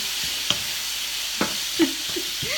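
Sliced zucchini stir-fried in a hot pan, a continuous close sizzle with several scraping stirs of the spatula and a few soft knocks against the pan, no talking.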